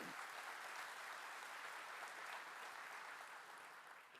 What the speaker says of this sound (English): please, one more round of applause to our Board of Trustees